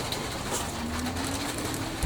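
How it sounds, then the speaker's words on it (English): Rain falling outside as a steady, soft, faint patter throughout, with a bird cooing faintly in the background. "Sorry about the rain, guys."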